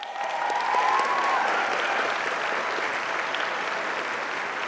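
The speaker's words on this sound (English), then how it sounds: "Un aplauso para todos los estudiantes." Families at a Hispanic convocation applaud the students, a steady wash of clapping from a large crowd that stays even throughout, with some voices mixed in early on.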